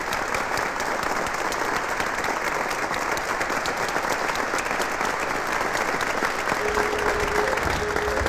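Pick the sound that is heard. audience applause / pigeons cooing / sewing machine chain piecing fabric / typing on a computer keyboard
audience applause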